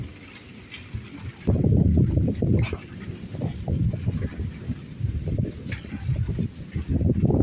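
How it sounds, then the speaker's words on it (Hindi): Cold wind after rain in a Punjab village rushes steadily and buffets against the microphone, rising into louder gusts, with no one speaking. "ठंडी ठंडी कणियां गिर रही, ठंडी हवा आ रही।"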